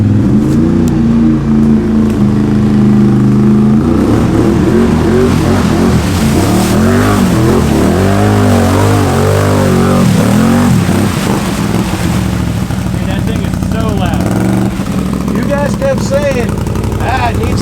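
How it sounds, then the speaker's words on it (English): A Can-Am Outlander 850 XMR ATV fitted with an MBRP performance exhaust and a fresh tune revs loudly and repeatedly, its engine pitch sweeping up and down in bursts over a steady idle, with voices talking over it. "let's see what the 850 that's freshly tuned with an exhaust does"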